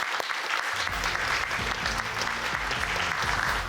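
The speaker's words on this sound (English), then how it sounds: "A round of applause for all of these coaches and administrators." Audience applauding coaches and administrators at a high school quiz-show playoff, steady dense clapping that fills the whole stretch without a break, with a faint voice murmuring underneath at the start.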